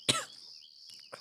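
A single short, close cough bursts out at the start, followed by near quiet and a faint, brief throaty sound at the end.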